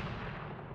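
A sniper rifle shot in an Unreal Engine 5 first-person shooter game, a single loud booming report that fills the short moment alone.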